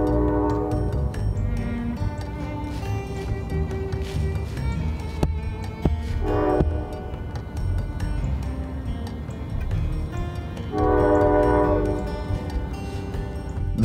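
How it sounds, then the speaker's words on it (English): A distant train horn sounds in long blasts, fading in and out over the rumble of a passing train, with a final loud sustained blast. "you can hear this train blowing"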